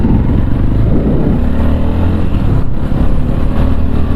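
A Tekken 250 motorcycle being ridden in second gear during break-in, its engine droning loud and steady with no pauses, heard up close from the rider's position.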